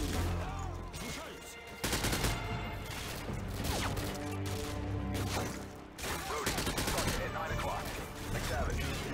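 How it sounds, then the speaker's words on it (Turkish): Gunfire in the video game Call of Duty Modern Warfare 2, dense bursts of shots and crashes rolling through a busy firefight, loud and continuous with brief lulls between volleys. "Sıkıyor lan bunlar bana."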